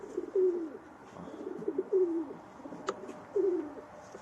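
Racing pigeons coo in a steady series of low, throaty calls, three or four distinct rolling phrases at close range, with no talk over them.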